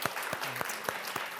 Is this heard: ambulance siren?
no